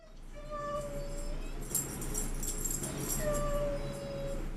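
Dogs whimpering in a few drawn-out, falling whines, one near the start and another toward the end, over a steady background hum.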